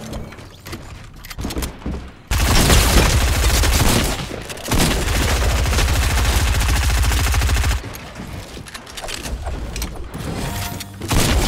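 Rapid automatic gunfire in Fortnite, dense bursts filling long stretches with a loud continuous rattle, broken by quieter gaps of game ambience.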